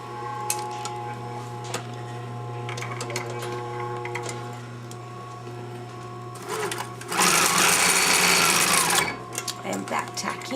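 A sewing machine stitching a 5/8 inch seam on a sleeve hums steadily under soft talk, then breaks into a loud, fast, buzzing run of stitches for about two seconds near the end.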